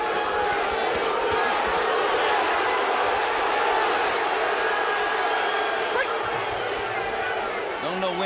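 A large boxing crowd roars steadily at the Ricky Hatton vs Luis Collazo fight, a dense continuous wash of cheering and chanting from many voices, with commentary talk running over it.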